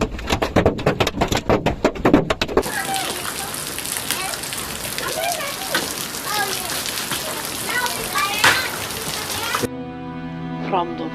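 Heavy rain and hail hammer down during a storm in Tarragona, Spain, a dense, loud crackling roar of impacts, with sharp bursts of noise at the start and an abrupt change near the end.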